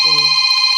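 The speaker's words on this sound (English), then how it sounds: "I really do apologise for my phone going off there." A mobile phone rings close and loud, a bright electronic chime of stacked steady tones pulsing rapidly through the whole short moment.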